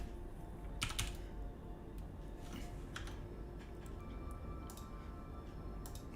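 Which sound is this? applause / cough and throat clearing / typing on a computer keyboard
typing on a computer keyboard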